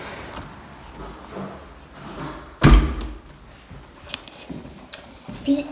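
A patio door leading out to a small private balcony in an empty apartment is unlatched and pulled open, giving one loud thunk followed by softer rattles and clicks, with faint background room noise.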